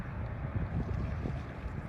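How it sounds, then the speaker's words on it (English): Wind buffets a microphone beside a fishing pit on a cold morning, a steady low rumbling roar with no other clear sounds. "It's windy."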